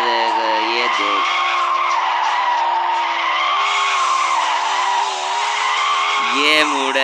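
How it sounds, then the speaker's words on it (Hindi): Continuous tire squeal from a car drifting in Extreme Car Driving, a sustained high screech that bends in pitch as the slide changes, loud and steady for the whole stretch with no talk over it. "अब देखो ड्रिफ्टिंग कितनी हो रही है।"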